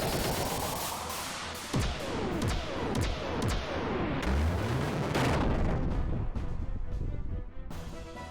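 Booming missile barrage with rapid explosive blasts in the Xenogears video game, a loud continuous volley of impacts and sweeping whooshes with no voices.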